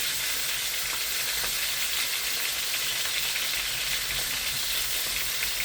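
Pork liempo sizzles and crackles steadily in a hot pan, a dense continuous frying hiss close up, with no talking.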